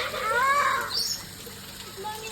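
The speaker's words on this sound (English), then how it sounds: "There's a bird making a weird noise." A bird at a Bali zoo gives an odd rising, warbling call, fairly close and brief, followed by a short chirp and faint background noise.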